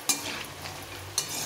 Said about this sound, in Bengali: বাদামটাকে একটু লাল লাল করে ভেজে নিতে হবে